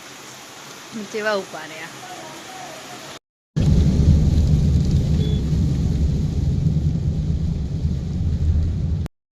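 Heavy rain pours in a village with a loud, steady hiss that follows a brief spoken phrase and a short break, continuing evenly and close by to the end.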